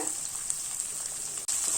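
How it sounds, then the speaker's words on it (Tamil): Chopped onions sizzle in a hot pan with a continuous, close crackling hiss, broken by a brief pause near the end. "ஒரு 2 நிமிஷத்துக்கு வெங்காயத்தை நல்லா வதக்கிக்கோங்க."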